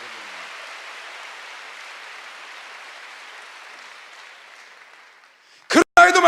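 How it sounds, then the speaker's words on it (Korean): A church congregation at a Sunday worship service claps hard in a steady, dense wash that fades away, and a voice cuts in sharply at the end. "세게 치세요 박수요."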